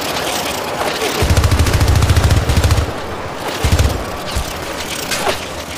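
Sustained machine-gun fire in the video game Syndicate as weapons shoot down a UAV, loud and close, with rapid rattling bursts that thicken in the middle, then lighter scattered shots and mechanical clatter.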